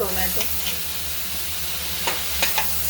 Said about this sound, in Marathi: टोमॅटो आपल्याला छान मऊ होईपर्यंत शिजवून घ्यायचं